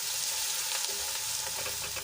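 Chopped onion sautés in hot oil in a pan for a sandwich filling, giving a continuous close hiss and sizzle with faint crackles and a few soft stirring scrapes.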